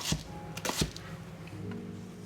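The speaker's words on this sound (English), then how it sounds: "I'm now chopping leek for the leek and potato" Leek chopped with a knife on a board for leek and potato soup, two sharp close cuts near the start followed by quieter faint kitchen shuffling.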